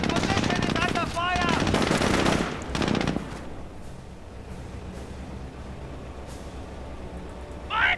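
Gunfire in the World War II strategy game Company of Heroes, with rapid bursts and a crackling volley early on and a shouted in-game voice line, then quieter distant shots and ambience.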